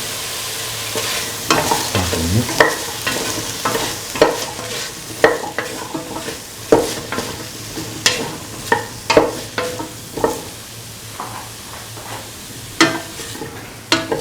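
Green chillies frying in a pan, an ongoing sizzle broken by repeated scraping and stirring strokes of a utensil, close and fairly loud, with no talk.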